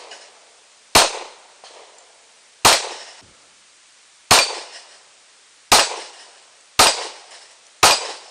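A pistol fired at a shooting range: six sharp, loud reports spaced about one to two seconds apart, each with a short decaying echo, with no talking in between.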